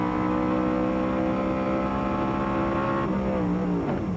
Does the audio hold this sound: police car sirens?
no